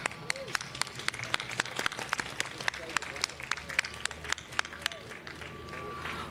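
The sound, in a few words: audience applause at Motorsports Walk of Fame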